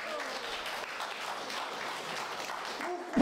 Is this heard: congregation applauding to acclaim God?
yes